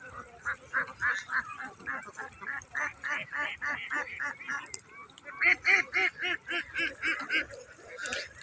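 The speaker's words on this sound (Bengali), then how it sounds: "হঠাৎ করে চোখের সামনে এতগুলো হাঁস চলে আসলো" A flock of ducks quacks in continuous, rapid, overlapping bursts, loud and fairly close, pausing briefly midway before the chorus swells again.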